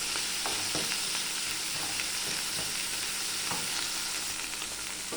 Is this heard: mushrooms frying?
yes